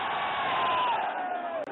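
A large rally crowd in Saharanpur shouts a slogan back in unison, a sustained loud massed roar of voices with no clear individual words standing out.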